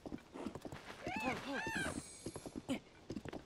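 A horse in the Zelda: Tears of the Kingdom video game gives a clear whinny amid hoof clip-clops, heard fairly close alongside other game sounds.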